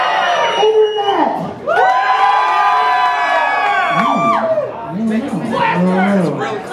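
Cheering crowd at a Robot Riot combat robot event roars for a robot with loud, sustained high-pitched shouts and whoops, building in two waves separated by a short dip.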